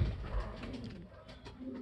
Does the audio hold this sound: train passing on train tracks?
no